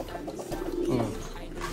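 Low, throaty pigeon cooing close by, a soft rolling coo swelling in the middle, with faint background noise.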